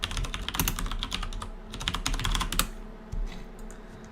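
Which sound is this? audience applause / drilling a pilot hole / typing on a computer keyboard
typing on a computer keyboard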